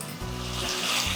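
Chopped garlic fries in oil in a pan, a soft continuous sizzling crackle with a brief louder clink at the end.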